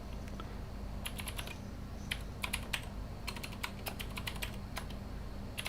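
Hand-built mechanical keyboard made from hand-soldered SMD electronics boards, typed on in quick bursts of crisp, close key clicks with short pauses between runs, no voices.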